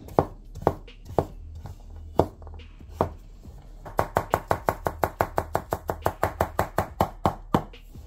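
A Katsumoto nakiri knife chops food on a board, a few spaced strikes at first, then a fast, steady run of sharp chopping taps.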